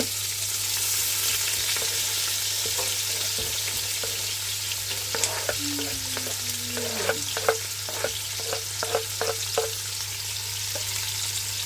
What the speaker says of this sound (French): Je fais revenir mes oignons et mon ail que j'ai haché.